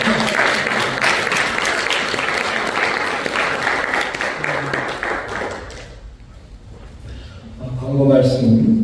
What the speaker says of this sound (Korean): 우리 박수를 한번 이렇게.